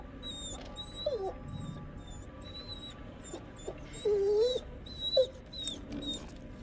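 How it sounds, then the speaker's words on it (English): An injured dog whimpers in The Devil in Me horror video game, with several high, wavering whines and yelps scattered over a murky, droning ambience. "Dog. One of it's injured. Whimpering."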